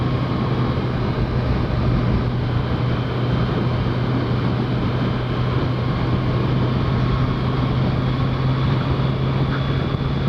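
A 2015 Kawasaki Z1000SX motorcycle engine drones steadily while being ridden on a bumpy road, close and loud, blended with constant wind rush and no talking.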